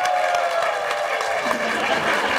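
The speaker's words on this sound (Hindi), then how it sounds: "तो हम आपकी भरपूर तालियों में माइदा इकबाल।" Studio audience applause on a television talk show, a steady wash of clapping at moderate level throughout, with no clear talk over it.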